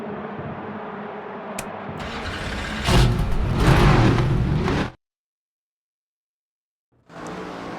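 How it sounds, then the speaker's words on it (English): Stock car engines in the NASCAR 25 video game crank and rev in a loud burst that swells, then cuts to silence before another engine sound returns. "Drivers, start your engines!"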